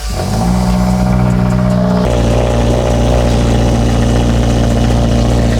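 A 2022 Subaru WRX engine, with restrictive exhaust parts removed, revs hard and loud with a raw, unmuffled exhaust roar, climbing in pitch after a brief idle, continuous throughout.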